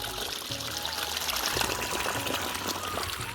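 Warm water being poured or splashed as bare feet are dipped into it outdoors, a continuous close pouring and trickling with irregular splashes.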